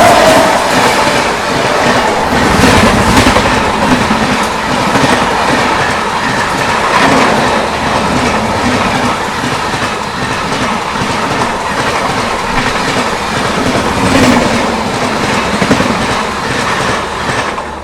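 A passenger train overtakes the Vaishali Superfast Express near Muzaffarpur, heard from on board as a loud continuous rumble with rhythmic wheel clatter throughout and no talking.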